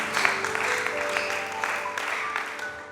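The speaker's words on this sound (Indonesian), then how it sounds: "Harus tepuk tangan kalau dia katakan lunas." A church congregation at an Easter worship service claps steadily, a sustained wash of applause with faint voices and tones mixed underneath.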